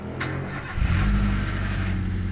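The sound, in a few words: car engine starting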